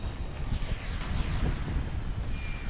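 A sustained, roaring explosion in the World War II shooter Sniper Elite V2 during a co-op mission: a dense, loud rumbling blast that fills the whole stretch without a break.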